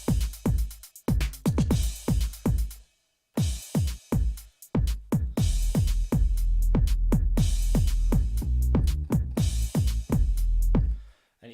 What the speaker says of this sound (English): So change the kick, and now it sounds like this.